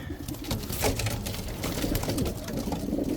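Young pigeons, including mealies and almonds, coo steadily inside a loft, with several birds overlapping in a continuous close murmur and occasional rustles of wings.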